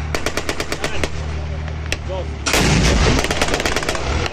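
Heavy T-72 tank cannon blasts boom repeatedly over a dense barrage of rapid gunfire at a military demonstration with infantry fighting vehicles, then a louder burst of explosive firing takes over near the end.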